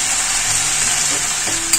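Vegetables sautéing in a pan, a steady close hiss of frying with faint stirring scrapes and a brief clink near the end, no voices.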